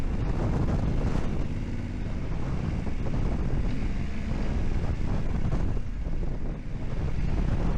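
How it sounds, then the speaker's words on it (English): Strong wind roars and buffets the microphone continuously, a loud, rumbling gusty blast with no other clear sounds, in far West Texas near Big Bend. "Oh, it is windy."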